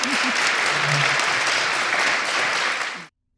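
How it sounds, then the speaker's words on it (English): Afternoon audience applauding a panel in a hall, dense steady clapping for about three seconds with a brief voice at the start, then cutting off abruptly. "A big round of applause to our panel here this afternoon."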